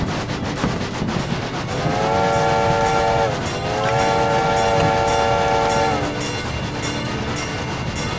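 A steam train whistle in a rainy railway video game blows two long, loud harmonic blasts with a short break between, over steady rumbling and rattling of the moving train.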